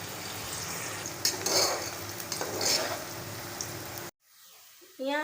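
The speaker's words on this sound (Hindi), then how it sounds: "अब इसके अंदर डाल के हम प्याज ब्राउन करेंगे।" Onions browning in about one and a half cups of oil in a pot for chicken biryani, a steady broadband sizzle with stirring scrapes for four seconds, then a brief silence before a voice begins.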